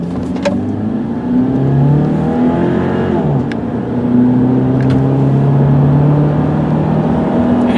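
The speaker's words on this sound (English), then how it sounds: "I'll really step on the gas so you guys can see" Silver 2003 Subaru Legacy Outback AWD wagon accelerating hard from inside the cabin, a loud sustained engine drone climbing in pitch through the gears, with one brief dip as it shifts, and no talking.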